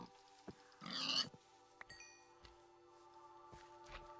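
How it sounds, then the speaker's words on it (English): A video game pig gives a few short grunting oinks, quiet and spaced apart, alongside brief chimes and clicks of game sounds, with no speech. "I'm just gonna kill some pigs."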